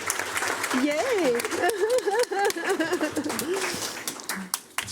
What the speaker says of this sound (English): Let's give them a hearty round of applause.